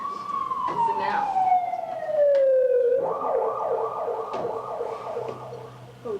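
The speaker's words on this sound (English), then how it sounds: "It's an ambulance." An ambulance siren wails loudly, its pitch falling as it passes, then shifting into a rapid warbling yelp, with faint traffic rumble underneath.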